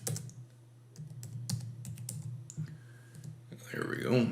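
Computer keyboard typing while building a Power BI data file, with scattered clicks and keystrokes throughout and a low hum under it, ending in a louder burst of keys.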